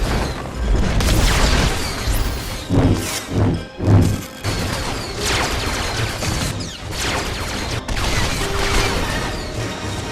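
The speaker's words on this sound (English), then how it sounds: "We're taking turret fire." Loud, dense video game battle aboard an Imperial ship, with turret gunfire and heavy explosions booming and crashing almost continuously, a few sharp blasts standing out from the steady roar.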